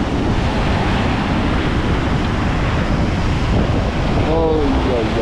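Sea waves at Jumeirah beach in Dubai roar loud and constant, mixed with heavy wind buffeting the microphone, and a voice is briefly heard near the end.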